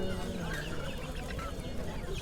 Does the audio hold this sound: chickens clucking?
yes